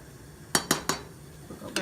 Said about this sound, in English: Make sure you stir your rice, because it will stick.